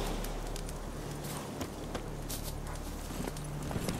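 Steady clip-clop of horse hooves at a walking pace in the video game The Witcher 3, over a constant low rumble, with a few sharper knocks scattered through.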